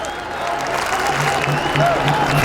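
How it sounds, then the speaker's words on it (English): Spectators at a T20 World Cup cricket match between England and Sri Lanka keep up a steady wash of applause and crowd noise across the stadium, loud and continuous, with a few faint whistles rising through it. "Crowd clapping, really getting into it."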